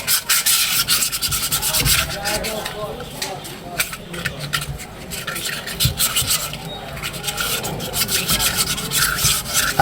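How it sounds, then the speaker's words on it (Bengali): Metal being rubbed and filed by hand while fitting a compressor coil, a close, rough rasping scrape that repeats in uneven strokes for several seconds, with some background talk mixed in. "এটা আমরা ওরকমভাবে ঘষা দিলে ফিলিং হয়ে যাবে"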